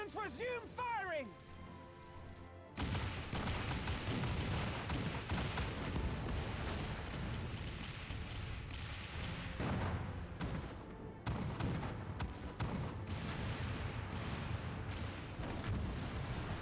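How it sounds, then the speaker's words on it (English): In a Final Fantasy XIV battle cutscene, cannon fire booms in a dense, continuous barrage, a long rumbling roar of blasts under voices and swelling music. "All cannons resume firing!"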